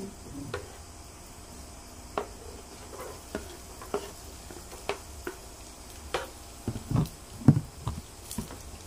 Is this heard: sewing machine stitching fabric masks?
no